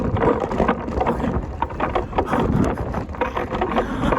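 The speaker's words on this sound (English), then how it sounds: "this wind is so strong" Strong gusting wind outdoors in Atlanta, Georgia buffets the microphone with loud, uneven rushes and thumps that swell and ease without pause.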